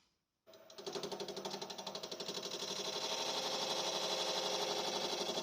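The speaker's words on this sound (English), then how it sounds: "Next is I'm going to cut out a mortise for my candle to fit." A wood lathe cuts a mortise to hold a candle in a small turned Halloween ghost: after a brief silence, a loud close buzzing whir starts up and holds steady with a fast, rattling pulse.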